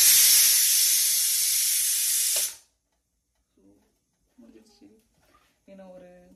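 Pressure cooker whistle blasting a loud, steady hiss of steam for a couple of seconds before cutting off abruptly, followed by quiet and someone speaking.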